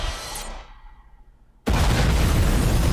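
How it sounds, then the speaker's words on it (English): A huge explosion in the animated Batman: Under the Red Hood movie erupts suddenly after a fading, quieter stretch, a loud sustained roaring blast filling the rest of the moment. "That's a big explosion."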